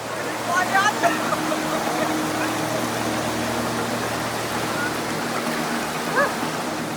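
Strong river current rushing past where teachers wade across on foot after motorbikes could not cross, a loud steady churning roar of water with occasional voices and splashes over it.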